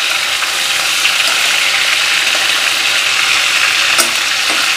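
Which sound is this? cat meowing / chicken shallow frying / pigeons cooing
chicken shallow frying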